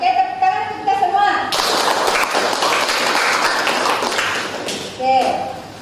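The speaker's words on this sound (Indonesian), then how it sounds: "tepuk tangan untuk kita semua" A classroom of children breaks into sustained applause after a spoken call in Indonesian, dense clapping that fades out into talk.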